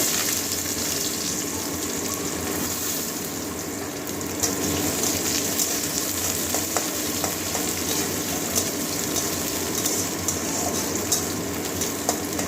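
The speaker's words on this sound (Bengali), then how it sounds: "পেঁয়াজটা একটু ভেজে নেবো" Chopped garlic and onion fry in a pan, making a dense, continuous sizzle that stays close and fairly loud throughout, with a few light clicks from stirring and no talking.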